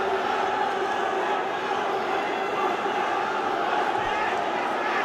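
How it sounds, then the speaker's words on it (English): A dense, steady roar from an arena crowd cheering at an MMA fight, loud and continuous throughout, with a commentator talking over the noise. "The crowd going electric here, supporting Chungren Koreng"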